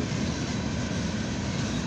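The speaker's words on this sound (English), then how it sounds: "We got a CSX northbound coil train here on track 2." A northbound CSX coil train rolls past on the track, a steady, loud, unbroken rumble and roar with no voices.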